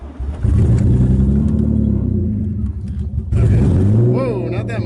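A drift car's engine revs loudly near the microphone during a launch attempt, a rumbling roar that rises and dips across the stretch while people talk over it.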